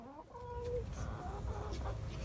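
Chickens clucking nearby, a rooster's calls mixed with hens' soft clucks over a low rumble of farmyard background noise.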